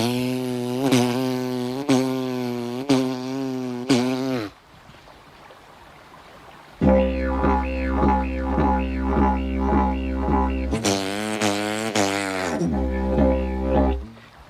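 A didgeridoo mimics a kangaroo hopping down the road: a buzzing drone with rhythmic tongue-driven pulses, briefly pausing, then returning with bouncy repeated thumps over a deep steady tone.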